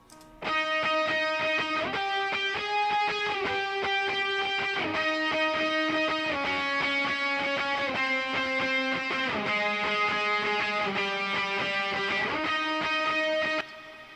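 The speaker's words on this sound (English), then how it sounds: "It's basically this huge reverb sound." Sustained electric rock guitar chords ring out one after another, washed in a huge, lingering Valhalla reverb that blurs each change into the next.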